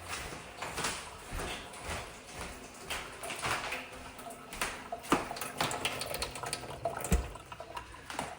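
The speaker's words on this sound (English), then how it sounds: "We're blowing a lot of air out of this shower faucet." Air spits and sputters out of a shower faucet in a home plumbing fix, an irregular hissing, gurgling flow with occasional sharp knocks and clunks, fairly faint and close.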